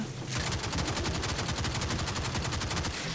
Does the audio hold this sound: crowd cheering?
no